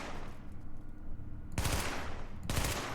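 SMG fire in The Division rattles out in two short, loud, close bursts after a stretch of low background rumble, with no voices.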